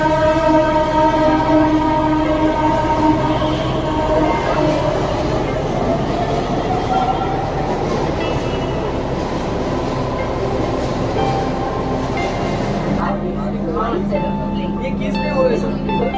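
An underground Pune metro train at a station platform, a loud continuous rumble of wheels and motors with tonal whine, shifting near the end as the train noise changes, with a voice talking over it.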